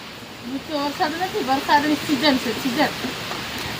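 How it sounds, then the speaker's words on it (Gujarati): Rain falls in a steady soft wash behind a person talking in the foreground. "પાછો વરસાદ ચાલુ થઈ ગયો છાટા ચાલુ થઈ ગયા"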